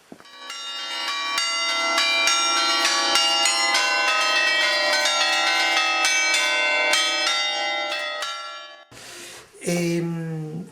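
Festive church bells ring out in a dense, continuous peal of allegrezza for several seconds, loud and sustained, before stopping abruptly; a brief voice follows at the end.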